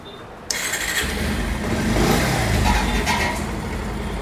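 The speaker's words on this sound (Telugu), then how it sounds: "ఇప్పుడు మనం బండి స్టార్ట్ చేసి చూద్దాం ఛార్జింగ్ అవుతుందా అవుతలేదా" A Bajaj Pulsar 150 BS6 motorcycle with a battery charging fault cranks and catches. Its engine settles into a steady close idle, then swells briefly as it revs and eases back.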